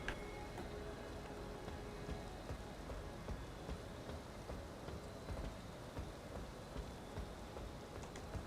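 Steady rain patters densely in a video game world, a constant soft hiss with faint thunder rumbling low beneath it, no voices.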